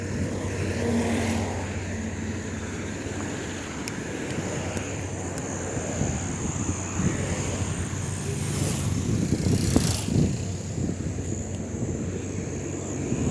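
A car drives along a city street at night in Uganda, its engine and tyre noise a steady broadband rumble that swells and fades under outdoor wind and background ambience.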